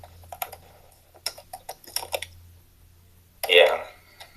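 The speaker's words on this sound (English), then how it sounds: "Hold on, let me type." A computer keyboard clicks in short irregular bursts of typing, close and crisp, ending in a louder clatter, with quiet room hum beneath.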